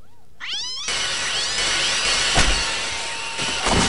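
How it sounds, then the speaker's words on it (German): A cat meows in the video game Postal 2, one clear rising meow followed by a dense, loud noisy wash of game sound with a couple of sharp thumps. "Und deswegen kommt die nächste Katze."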